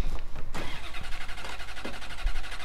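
A car engine in the video game Mafia 3 cranks repeatedly with a rapid rhythmic churning starter sound but never catches, loud and close.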